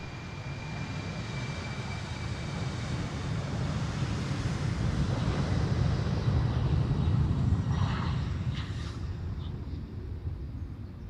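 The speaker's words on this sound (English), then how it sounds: "you don't see a lot of A340s anymore" An Airbus A340 airliner at Amsterdam Schiphol on a windy day gives a steady broadband engine roar that swells slightly mid-clip, mixed with gusting wind noise on the microphone and no clear voices.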